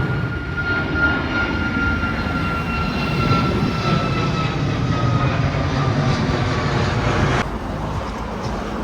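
An airplane flies overhead near Málaga airport, a loud sustained jet roar with a steady whining tone that holds for several seconds before easing slightly near the end.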